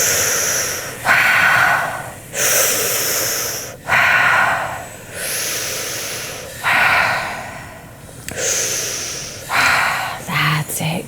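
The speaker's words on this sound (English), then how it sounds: "Keep it going, staying connected, breathing all the way down, whole body breathing" Repeated deep, forceful breaths during a guided whole-body breathing session, each long rushing inhale or exhale about a second or two, steady rhythmic cycles close to the microphone with a faint soft tone underneath.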